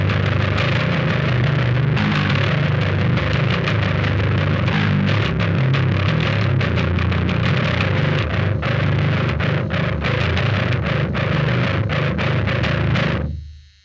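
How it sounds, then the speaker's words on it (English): Electric bass played through a Dirty Bass Microtubes distortion and ART Studio V3 preamp with the drive pushed up, a thick, gritty, hissy tone, loud and sustained, with repeated notes for about thirteen seconds before cutting off. "push it a little bit more with the drive, which gives it a bit more hiss"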